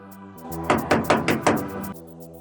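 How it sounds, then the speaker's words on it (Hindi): A door is knocked on in a stage play: about five sharp, evenly spaced knocks ring out close and loud over a low sustained musical drone, with no voices. "कोई है दरवाजे पर, कोई खटखटा रहा है दरवाजा।"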